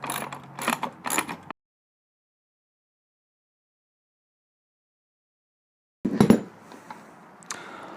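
A nut is tightened over a washer and metal plate while assembling a Gamber Johnson tablet display mount, giving close, clicking ratchet-like mechanical bursts at the start and again after a long silence.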